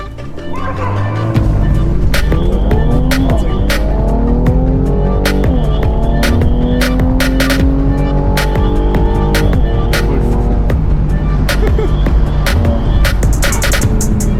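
A Mercedes C43 AMG launches hard with launch control, its engine roaring loud and close, rising steadily through several gear changes. Tires squeal and chirp along the way.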